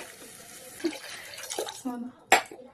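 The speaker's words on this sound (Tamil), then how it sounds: "கொஞ்சம் தண்ணி சேர்த்துட்டு" Water pours briefly into a pot with a splash and a few soft clinks, surrounded by quiet kitchen sounds.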